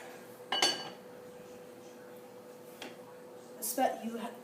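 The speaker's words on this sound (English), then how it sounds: "Put the lid on." A lid is set on a cooking pot of chicken and sausage jambalaya, giving a sharp metallic clink near the start and a rattling clatter of metal near the end, over a quiet kitchen background.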